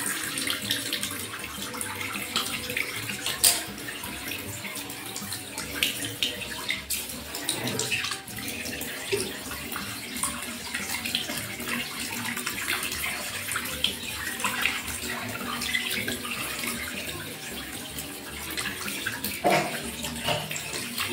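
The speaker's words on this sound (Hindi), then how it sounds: "स्कैल्प को पानी डालते जाना है और लाइट लाइट मसाज करते जाना है" Water poured over the scalp while hair is washed and lightly massaged, a steady, close splashing and running-water rush with small shifts in flow throughout.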